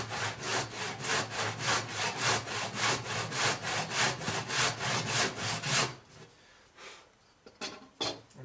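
A hand saw cuts through wood for a raised garden bed, with steady, rhythmic back-and-forth rasping strokes close by for several seconds, then a few slower, scattered strokes.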